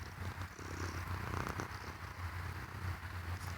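A cat purrs close up in a steady, rhythmic low rumble that pulses through the whole moment, soft but continuous, with faint rustling and no talking.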